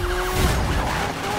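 Police car siren wailing in Need for Speed 2015, a steady rising tone heard briefly over loud engine roar and skidding tyres, with no talking.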